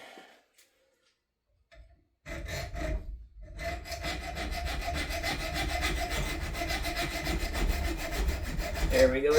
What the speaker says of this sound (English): Let's try the hacksaw one more time.